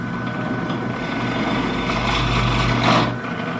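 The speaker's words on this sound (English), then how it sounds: "we're going to drill through the ebony on this side" A steady drill whine runs throughout, building in intensity near the end as the bit pushes through hard ebony wood while cutting guitar headstock slots, then easing off.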